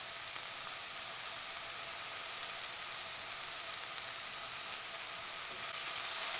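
Ground meat sizzles steadily in a hot pan while being cooked down into crumbles for a gnocchi topping, a constant bright hiss with no breaks.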